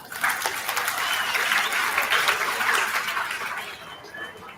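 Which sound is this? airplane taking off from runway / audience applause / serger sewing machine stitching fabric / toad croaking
audience applause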